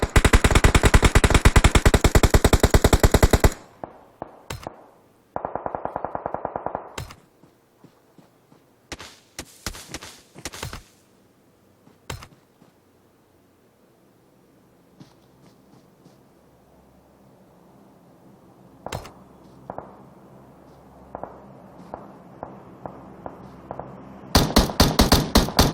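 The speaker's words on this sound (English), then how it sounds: "Sam and Tribe shooting at one another now" Video game gunfire from players shooting at each other in an esports league match: dense bursts of rapid automatic fire at the start and end, with scattered single shots and short volleys between them over quiet stretches.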